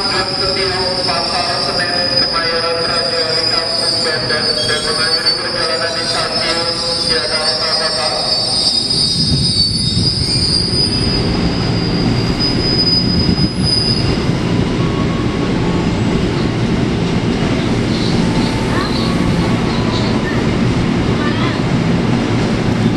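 Freight train hauling containers on flatcars through Jatinegara station, loud and close, with shrill wheel squeal at first giving way to a steady rolling rumble and rail clatter that fills the whole stretch.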